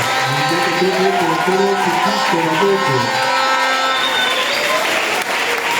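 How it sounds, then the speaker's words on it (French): A church congregation at a Sunday service applauds and cheers over sustained music, with a steady wash of clapping and shouting voices filling the room. "Je veux qu'on acclame le Seigneur Jésus-Christ."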